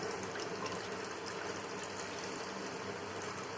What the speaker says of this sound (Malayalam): ഇതാ കുറച്ച് വെള്ളം അതിലേക്ക് ഒഴിക്കുക.